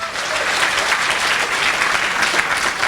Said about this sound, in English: let's get a big round of applause for you guys just for coming out